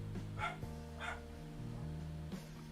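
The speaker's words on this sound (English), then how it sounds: "Apologies for the dog barking." A pet dog barks indoors in a few sharp bursts, with steady low music in the background and no talking.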